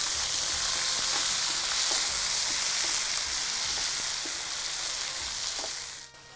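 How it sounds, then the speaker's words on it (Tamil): Ground masala paste sautéing in a hot pan for a cooking show, a steady loud sizzle and frying hiss with soft stirring scrapes, heard alone until it drops off at the end. "இந்த மசாலா வதங்கணும்."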